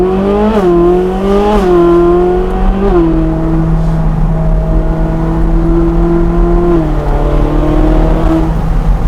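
Ferrari 458 Speciale engine revving hard through quick upshifts, its pitch climbing and dropping sharply with each shift before settling into a steadier drone, loud and close with no talk.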